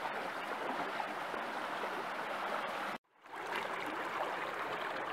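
A creek flows deep in a redwood forest, a steady broadband rush of water that cuts out briefly near the middle and then resumes at the same level.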